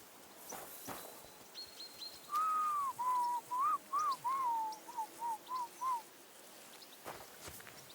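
A character whistles a short tune in Kingdom Come: Deliverance II, a string of clear, close, wavering notes broken into quick phrases over quiet outdoor ambience.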